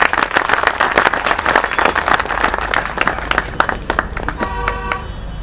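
An audience in a large festival tent at a Hindi-language gathering breaks into sustained, dense applause that holds steady and then thins out toward the end.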